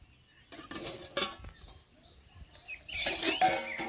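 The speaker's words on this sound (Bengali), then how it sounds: "এবার চাপা দিয়ে দিচ্ছি।" A lid clatters onto a cooking pan of soybean muitha and potatoes, giving a few light metallic clinks and scrapes, quiet and close with a brief pause between them.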